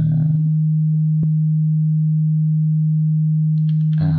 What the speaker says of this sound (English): if I turn off C as well, we'll just have our plain sine wave